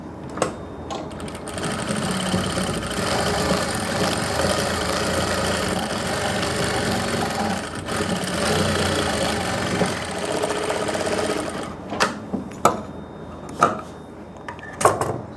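A sewing machine stitches a suit in a tailoring class, running continuously and close for about eleven seconds before stopping, followed by a few sharp handling clicks and knocks.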